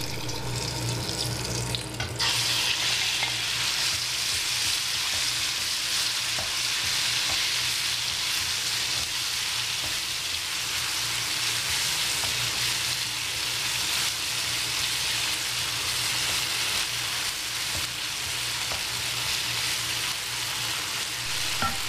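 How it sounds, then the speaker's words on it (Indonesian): Steady loud sizzling of red chilies sautéing in hot oil, a continuous crackling hiss with no talking. "Tumis cabai merah hingga harum."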